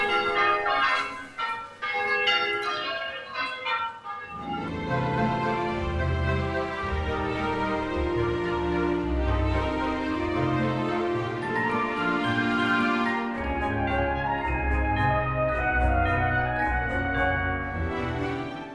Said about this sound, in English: it's always nice to hear the sound of the church bells